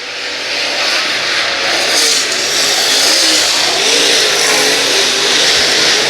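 Super late model race cars roaring in a dense pack at the start of a championship-night race at Brownstown Speedway, a loud, steady wall of engine noise with no break and no voices.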